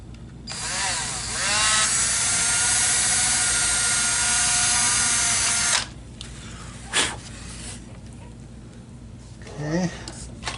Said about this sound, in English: So we're just drilling into